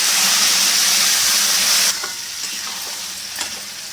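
Mutton pieces fry in a pan for curry and are stirred with their own released broth: a loud continuous sizzle that drops sharply as the liquid goes in, then softer bubbling with scraping stir strokes.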